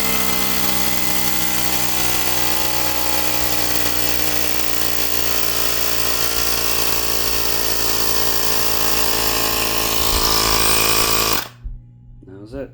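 An Optimum Hyper Foam sprayer is pumped up and pressurized by a loud, steady mechanical drone that runs continuously for about eleven seconds, then stops abruptly, leaving a few faint clicks and hisses.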